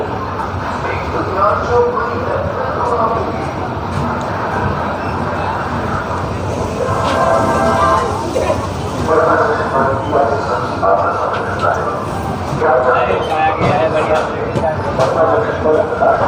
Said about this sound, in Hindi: अपनी ट्रेन पटना जंक्शन से चल चुकी है। देखिए इसका डिपार्चर।